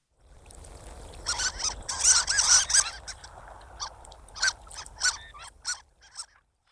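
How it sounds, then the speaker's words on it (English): Harlequin duck call played from a recording: a series of high, squeaky, reedy notes in uneven bursts, fairly faint and thin, with short pauses between calls and no talking. "I'm going to say Harlequin duck"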